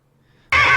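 The horse in the classic TV sitcom Mister Ed lets out a sudden loud whinny that bursts in after a half-second hush and carries to the end.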